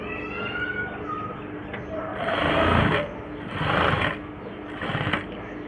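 An overlock sewing machine stitches silk blouse fabric in three quick whirring bursts, each about a second long, between pauses. A voice talks quietly in the background.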